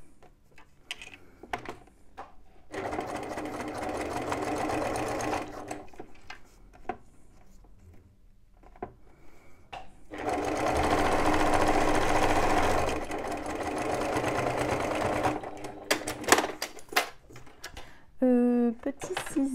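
A sewing machine runs in two long sustained bursts, stitching a bum bag, with quieter handling noises, clicks and brief pauses between the runs.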